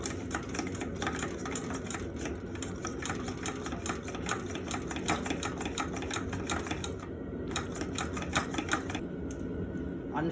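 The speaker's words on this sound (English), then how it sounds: "This is about half full, so I'm gonna give it around 35 pumps." A hand pump works the fuel bottle of an MSR WhisperLite white gas backpacking stove, giving a fast, even series of close, quiet squeaking and clicking strokes that repeats steadily throughout.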